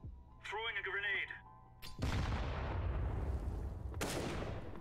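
A grenade is thrown in CS:GO: a brief voice comes first, then a sharp, loud explosion bursts and decays into a rumbling tail, followed by a second heavy blast near the end.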